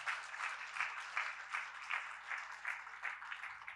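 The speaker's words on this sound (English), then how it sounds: "Let's give them a big round of applause." A conference audience at the Superyacht Summit 2023 gives a sustained round of applause, many hands clapping in a dense, even patter that carries on for the whole stretch without any voices.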